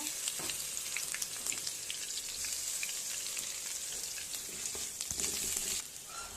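Fried onion with onion paste added sizzles in a pan while fish curry is cooked, a close crackling hiss with scattered spitting pops and occasional stirring, steady and then easing off near the end.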